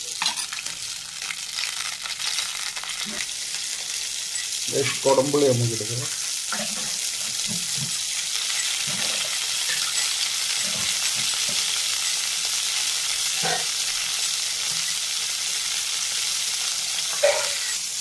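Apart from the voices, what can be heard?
fish curry boiling in a pot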